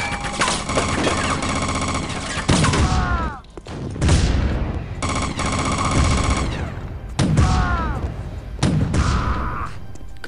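Heavy gunfire from a beefy weapon in the first-person shooter game Chaser, loud rapid bursts repeating through the scene over game music and effects, with breaks between volleys.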